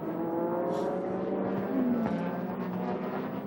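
Super GT race cars circle Twin Ring Motegi with a continuous engine drone. Pitch sweeps rise and fall as the cars pass, loud and steady throughout with no talk.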